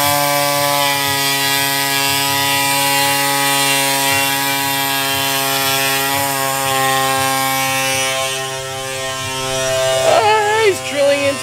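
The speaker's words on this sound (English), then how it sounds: "He's drilling into my truck." A power drill whines steadily, boring into the body of a Ford Ranger Raptor to fit a stainless snorkel, loud and close with a pitch shift toward the end and a brief voice at the close.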